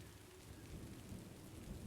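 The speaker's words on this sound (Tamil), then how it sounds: "மழை பெஞ்சிட்டு இருக்கு ஃப்ரெண்ட்ஸ். மழை சவுண்ட் கேட்குது." Steady rain falls in a video game, a dense, even hiss with low rumbling underneath, heard alone and fairly faint.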